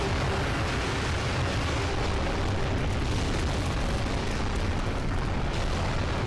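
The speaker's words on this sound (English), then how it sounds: "It's gonna dump a whole load of explosions near us or on us." Dense, continuous roar of explosions bursts from an enemy ship's bombardment in the video game Global Defence Force, a loud, unbroken wall of booming blasts filling the whole stretch without pause.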